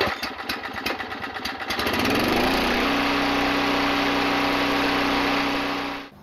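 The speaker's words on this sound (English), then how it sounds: "Starting a generator is similar to starting any piece of outdoor power equipment." A portable generator is pull-started with a few quick rattling cord pulls, then its small engine catches and settles into a loud, steady running drone close by, cutting off at the end.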